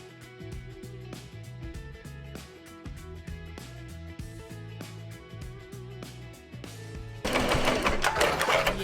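Embroidery machine stitching an applique onto a T-shirt, a steady rhythmic mechanical whir with regular needle ticks, close and continuous, turning louder and harsher near the end.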